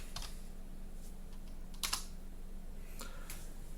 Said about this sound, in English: You can do that by typing